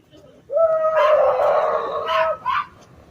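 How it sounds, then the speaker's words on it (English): A dog howls in a drawn-out, wavering cry that rises and holds, followed by a couple of shorter yelps, fairly close and loud against a quiet background. "There is a dog barking though, right?"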